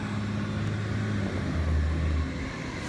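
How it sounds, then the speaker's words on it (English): A bin truck rumbles past nearby, a low, steady engine drone with a slight rise in the middle, heard alone without voices. "Excuse the noise from the bin truck."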